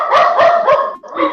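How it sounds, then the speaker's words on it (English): Bentley the dog barks in a rapid run of four or five close, loud woofs, heard alone. "Like barking non-stop."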